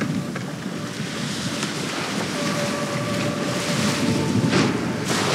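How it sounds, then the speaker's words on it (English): Strong wind buffeting the microphone outdoors at Gibraltar, a constant loud roaring rush with gusts swelling toward the end and no speech. "here is quite windy in this moment"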